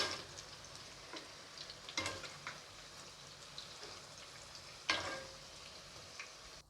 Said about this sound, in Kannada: ಇದನ್ನೆಲ್ಲ ಹೀಗೆ ತಿರುಗಿಸ್ಕೊತಾ ಈ ರೀತಿ ಚೆನ್ನಾಗಿ ಫ್ರೈ ಮಾಡ್ಕೋಬೇಕು